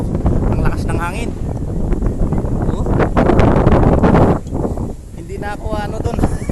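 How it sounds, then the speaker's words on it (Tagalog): Strong gusting wind in bad weather near a tower, roaring and buffeting the microphone throughout, with a person talking over it close by. "Ang lakas ng hangin."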